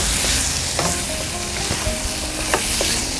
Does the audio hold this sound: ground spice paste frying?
yes